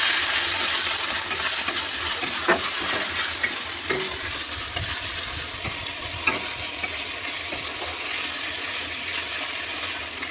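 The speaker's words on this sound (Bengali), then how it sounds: "মশলাটাকে অল্প আছে ভালো করে নেড়ে কষিয়ে নেব" Chicken being stir-fried with ground spices such as coriander and turmeric in a pan, a steady loud sizzle with scattered scraping strokes of a spatula throughout, no voices.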